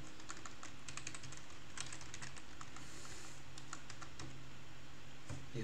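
Rapid, steady typing clatters on a cheap CTEC computer keyboard, close and continuous, over a constant low background hum.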